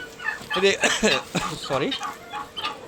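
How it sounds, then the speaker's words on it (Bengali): Chickens and ducks roaming free on a rooftop cluck and call in irregular bursts close by, with a voice talking faintly underneath. "তো বন্ধুরা দেখতে পাচ্ছেন কত সুন্দরভাবে হাঁস মুরগিগুলো বিচরণ করে ঘুরছে।"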